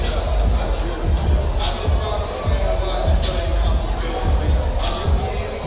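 Arena crowd at an MMA event cheering steadily for a fighter heading out after a win, a continuous roar of many voices with bursts of whoops, loud and close throughout.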